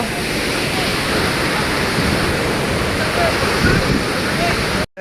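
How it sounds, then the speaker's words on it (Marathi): The Ranpat waterfall at Ukshi in the Konkan pours with forceful water, a loud, constant close roar that fills the scene without a break until it cuts off abruptly at the end. "पाठीमागे बघताय पाण्याचा किती फोर्स मोठा आहे"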